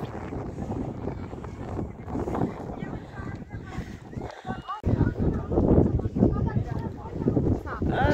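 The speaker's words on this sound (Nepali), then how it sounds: "कति हावा लाग्दो रहेछ" Strong wind buffets the microphone on the Sailung hilltop, a steady roaring gust throughout with voices talking over it.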